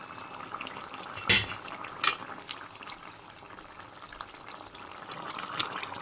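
Fish pieces dropped into a pot of soft boiled bottle gourd and sweet pumpkin on a home stove, with a couple of sharp clinks of utensil against the pot over a low simmering background, no talk.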